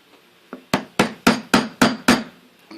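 Wooden mallet striking a carving gouge into wood for a skull relief carving, seven sharp knocks in a steady rhythm, close and fairly loud, each with a short woody ring, no talking.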